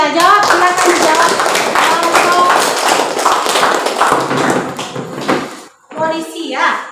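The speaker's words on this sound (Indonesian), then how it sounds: "tepuk tangan untuk Ica." A classroom group claps for a student who answered a question, with loud, dense tapping claps and young voices calling out together, fading near the end as talk resumes.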